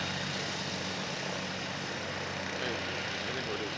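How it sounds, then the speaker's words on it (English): Single-engine propeller planes rumble steadily while taxiing at an airfield during a Christmas charity flight event, a continuous droning engine noise filling the whole stretch. "look at these single engine planes. The motor propellers. There goes another one."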